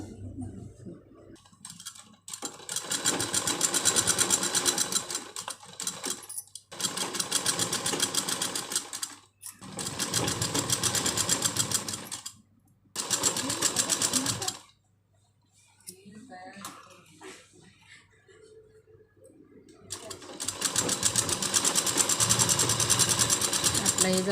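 A sewing machine stitches a lined blouse in loud, fast, steady bursts, stopping and starting several times, with someone talking in the pauses.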